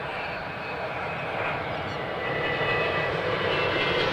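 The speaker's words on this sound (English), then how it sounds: "Singapore coming in right now. Here we go. The Dreamliner." Singapore Airlines Boeing 787 Dreamliner arriving at Adelaide Airport, a steady, loud jet engine roar that swells slightly as the aircraft comes in, with no talking.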